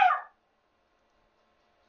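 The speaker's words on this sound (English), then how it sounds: "Excuse my dogs, they're very badly behaved." A single short, sharp bark from a dog, loud and close, followed by near silence.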